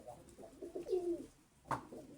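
Pigeons cooing softly in a few separate phrases, with one brief louder call near the end, fairly close and alone against a quiet background.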